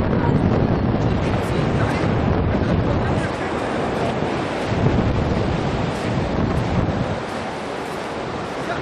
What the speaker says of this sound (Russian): Такое у нас тут море,